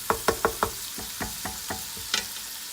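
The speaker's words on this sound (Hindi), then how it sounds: "ये तकरीबन 1-2 मिनट ही हमें भूनना है" Roasting ingredients in a pan for dhaba-style chana dal: about ten soft, evenly spaced scrapes and taps of a spoon against the pan over a faint sizzle, close by, with no talking.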